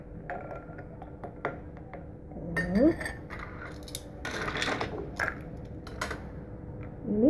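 A spoon stirs an iced imitation young coconut drink (es kelapa muda KW) in a glass, making scattered light clinks and scrapes against the glass over a low background murmur.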